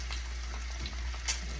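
Eggs fry over low heat in a pan, giving a soft, steady sizzle with a low background hum and a few faint clicks, quiet and close with no voices.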